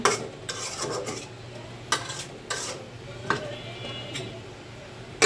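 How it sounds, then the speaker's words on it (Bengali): Rida fish and potato curry is stirred in a pan over lowered heat. Several distinct scraping strokes of a spoon against the pan sit over a soft, steady sizzle, with occasional sharper clinks. "একটু নাড়া দিয়ে দিচ্ছি চুলার আঁচটা কমিয়ে দিচ্ছি"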